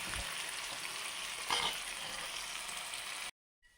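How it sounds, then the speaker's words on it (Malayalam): Dried fish frying in hot oil in a pan, a steady close sizzle with a brief louder crackle partway through before the sound cuts out. "അപ്പോൾ ഈ ഉണക്കമീനിനെ നമുക്കൊന്ന് ഫ്രൈ ചെയ്തെടുക്കാം."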